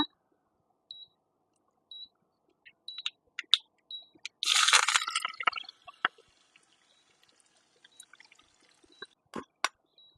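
Liquid is poured into a pressure cooker for mushroom biryani in one short, splashing gush midway, set among scattered clinks and taps from the cooking vessels in a quiet kitchen.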